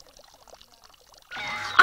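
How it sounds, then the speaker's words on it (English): Water pours into an ancient Greek water clock built by the physicist Ctesibius inside a public clock tower. Near-silence gives way to a sudden steady rush of flowing water that continues strongly to the end. "Inside this tower, the Greek physicist Stesibius built a very accurate water clock."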